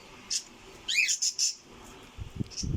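A bird on a farm gives a few short, close chirps and a rising-falling whistled call, followed by soft rustling and handling thuds.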